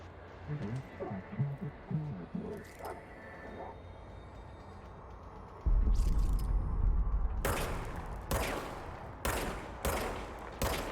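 Service weapon gunfire in the game Control: a series of sharp, loud shots in irregular succession over a low rumble, following quieter ambient sounds and some talking.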